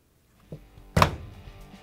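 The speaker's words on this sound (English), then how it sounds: "All right, now we can close the door." The door of a Whirlpool, KitchenAid or Maytag washer being shut after a hinge plate repair, heard as a light tap and then one solid close thunk with a short fading rattle, alone in a quiet room.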